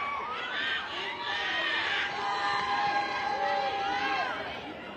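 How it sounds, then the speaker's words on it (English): Spectators at a women's 60 kg para judo match at the ASEAN Para Games in Thailand squeal with delight, producing a steady arena roar of high, excited cries and cheers under a commentator's voice. "Hence these squeals of delight in the crowd."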